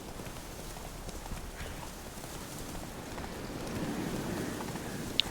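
Steady, muffled hoofbeats of the horse Roach galloping in The Witcher 3: Wild Hunt, a continuous rumbling patter with a faint rain-like hiss and one small click near the end.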